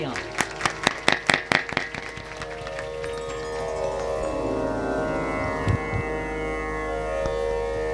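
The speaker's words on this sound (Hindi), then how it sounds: "इनके लिए भी एक बार जोरदार तालियां" Applause for the musicians at a Shrimad Bhagavat Katha religious gathering in Sultanpur, Uttar Pradesh. Claps are sharp and distinct early, then soften and blend into a steadier, wash of sustained sound that carries to the end.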